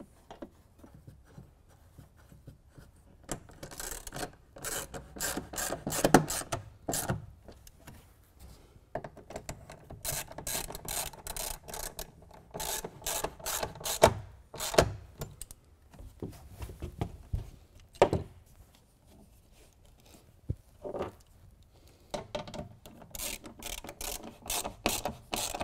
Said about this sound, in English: We're going to loosely install all three bolts and then tighten them down with the T30.